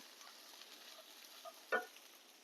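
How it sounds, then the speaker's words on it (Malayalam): Ghee being stirred into bread upma in a pan: a soft, steady sizzle with faint scraping, then one sharp clink of the spoon against the pan near the end, quiet and close. "നെയ്യ് ഇട്ടിട്ട് നല്ലതുപോലെ ഒന്ന് ഇളക്കി കൊടുക്കുക."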